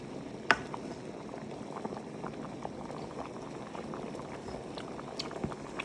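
Thick sweet coconut milk dessert (ginataang bilo-bilo) bubbling at a steady boil, soft popping blips with an occasional louder pop, heard up close and fairly quiet.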